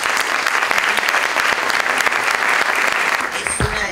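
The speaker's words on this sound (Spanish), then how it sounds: "para quien pido un gran aplauso" Loud, sustained applause from an audience at a gender studies seminar, dense clapping filling the whole stretch with a few voices mixed in and a brief louder shout near the end.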